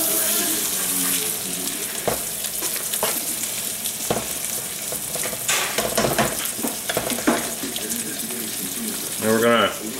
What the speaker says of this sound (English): We're going to add our black beans. Let's stir that up a little bit.